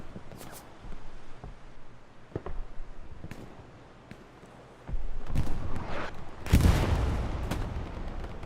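Machine gun fire rings out in the World War II shooter Hell Let Loose: scattered sharp shots and bursts, some distant, then heavier, louder rattling and booming blasts building toward the end, with no talking.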